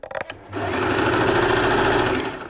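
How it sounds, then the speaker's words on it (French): A sewing machine whirs into a fast, steady mechanical rattle after a few short clicks, running continuously at close range before easing off at the end. "le principe de la machine à coudre c'est simple, c'est d'appuyer sur la pédale comme ceci"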